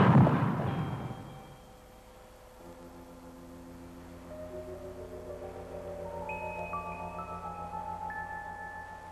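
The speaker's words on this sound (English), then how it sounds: "The gun is fired." A light gas gun fires at a crater target in a lab, giving one sharp, loud blast at the start that decays over a couple of seconds, followed by steady layered tones that build up.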